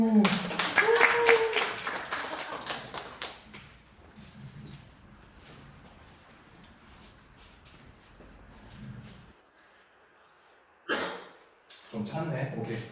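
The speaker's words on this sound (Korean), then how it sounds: "박수." A burst of clapping at a church youth worship service at the start fades out, followed by a stretch of quieter sound and then a voice speaking near the end.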